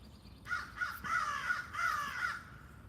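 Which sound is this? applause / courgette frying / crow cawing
crow cawing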